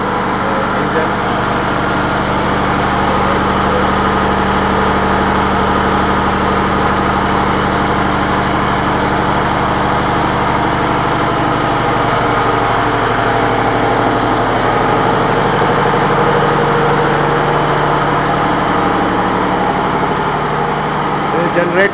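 The main Polar engine of a ship runs in its engine room, a loud, constant mechanical drone with steady low hum and no pauses, heard close and continuous throughout.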